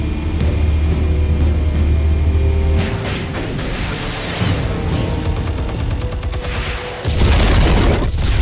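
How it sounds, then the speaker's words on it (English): Explosives detonate in the Telltale Batman video game, a loud deep boom with rumbling blasts and crackling debris that fills the mix for several seconds before another heavy surge, with no speech. "Explosives armed. Fire when ready."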